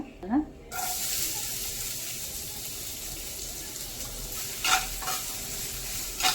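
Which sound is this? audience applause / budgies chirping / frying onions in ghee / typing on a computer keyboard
frying onions in ghee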